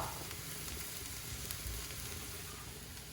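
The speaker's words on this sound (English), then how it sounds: "we'll let this go a minute or 2 to sweat out the garlic and the shallots while stirring pretty frequently" Garlic, shallots and red pepper sweat in a pan for a woodsman's pasta, giving a soft, continuous sizzle that is faint and steady with no voices.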